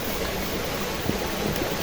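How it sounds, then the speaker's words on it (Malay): River stream flowing with clear water on a jungle trail, a constant close rushing and bubbling wash, steady and fairly loud with no voices. "Jadi ini adalah keadaan sungai tersebut."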